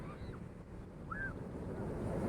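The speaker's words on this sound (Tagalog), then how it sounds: "Sobrang lakas ng alon, hindi ka pwedeng maligo rito." Strong surf on the Ilocos coast of northern Luzon rushes as a broad, steady roar, with wind buffeting the microphone and a couple of faint high bird calls above.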